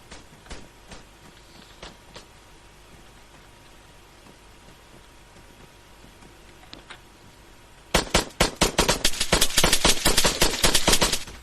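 Gunshots ring out in the military shooter Arma 3, a few scattered distant cracks over quiet ambience, then a loud dense volley of rapid shots bursts in near the end.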